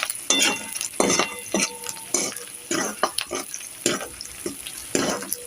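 Finely chopped onion and curry leaves frying in oil in a kadai for a Konkani-style clam curry, with a low sizzle broken by clanking metal spatula stirs against the pan, near and uneven in rhythm.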